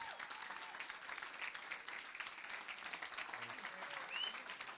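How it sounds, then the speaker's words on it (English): An audience claps together at a live show, a faint, even patter of applause that runs steadily for a few seconds and swells slightly near the end. "So can I just get a round of applause for everyone?"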